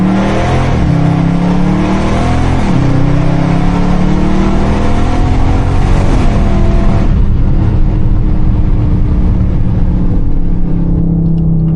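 Dodge Scat Pack V8 revving hard from the driver's seat, loud rising and falling engine tones with downshift blips and a sustained deep rumble throughout, no talk.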